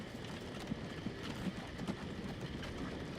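Horse-drawn transport in the Transport Fever simulation game, soft irregular hoof clip-clops over a steady rolling rumble of traffic, faint and continuous.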